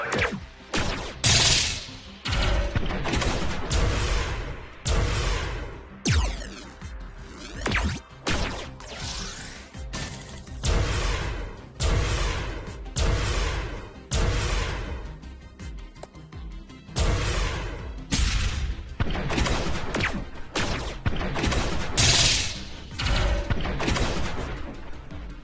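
Spaceship guns fire at a target in the space fleet command game Station Command, a dense, loud barrage of repeated blasts and booms sustained throughout with brief lulls.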